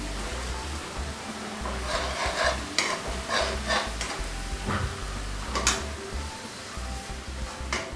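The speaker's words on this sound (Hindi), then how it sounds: "अब मैं बेसन इस घी में डालूँगी और उसके बाद में हम सेकेंगे" Gram flour roasting in hot ghee, stirred in a pan: a constant soft sizzle under repeated scraping and clinking strokes of a spoon against the pan, close and fairly loud.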